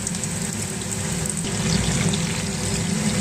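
Marinated food coated in egg white, arrowroot and a pinch of salt fries in hot oil toward golden brown, giving a steady, close, dense sizzle with no talking.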